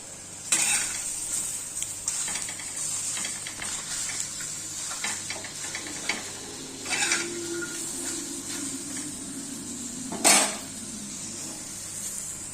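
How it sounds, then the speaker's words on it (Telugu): Okra frying in a pan for curry, a soft ongoing sizzle with scattered spatula scrapes and clinks against the pan, one louder knock near the end. "ఇలా వేగుతున్నాయి బెండకాయలు"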